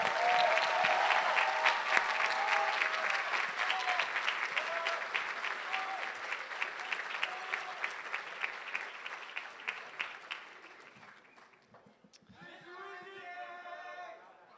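A graduation ceremony audience applauds the band after a long Pomp and Circumstance, with sustained loud clapping and voices that thin out over about ten seconds and then fade, followed by quieter crowd noise and a brief voice.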